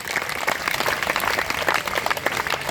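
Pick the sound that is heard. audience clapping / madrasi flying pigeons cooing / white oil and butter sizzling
audience clapping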